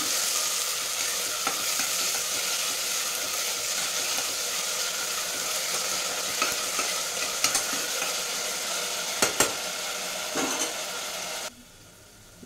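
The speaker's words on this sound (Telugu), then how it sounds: "మెంతం కూర వేసేస్తున్నాను. మిక్స్ చేద్దాం." Fenugreek leaves being stirred in a frying pan with onion, a loud, steady sizzle with intermittent scraping and tapping of the spoon, cutting off abruptly near the end.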